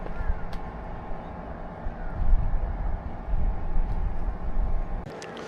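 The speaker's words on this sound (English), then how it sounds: "There's a pump here. I don't know what it's doing." A pump runs steadily beside a silo on a hiking trail on Lamma Island, a continuous low mechanical drone with faint outdoor wind, close and moderately loud throughout.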